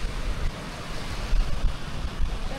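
Sea waves washing against an island shore, a steady rushing surf mixed with wind buffeting the microphone, close and continuous with no talking.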